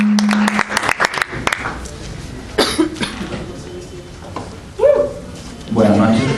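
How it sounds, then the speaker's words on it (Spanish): Audience applause for storyteller Douglas Amaya at an evening performance, with scattered claps at the start fading out, followed by coughs, throat clearing and brief murmurs from the room. "Para Douglas Amaya, un gran y fortísimo aplauso en agradecimiento."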